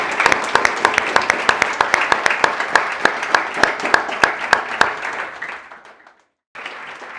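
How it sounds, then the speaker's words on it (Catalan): A hall crowd breaks into sustained, rhythmic applause for the mayor at a school event, claps dense and close, fading away before a brief burst resumes after a short silence. "tots un fort aplaudiment pel senyor alcalde"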